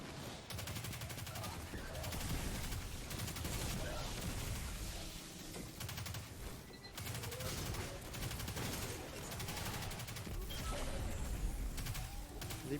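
Rapid gunfire from a Destiny 2 firefight, dense bursts of shots over a steady roar of game effects, continuous and loud throughout with faint talk underneath.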